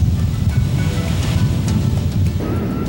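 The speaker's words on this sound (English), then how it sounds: "giant ocean waves have crashed against the huge volcanic rocks for hundreds of thousands of years" Large ocean waves crash against huge volcanic rock cliffs on the west coast of Rota, a loud, continuous roaring surf with heavy low rumble and no voices.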